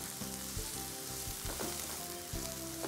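Shallot-type sambar onions frying in a pan for a chicken curry: continuous sizzle with a few clinks and scrapes of stirring, no talking.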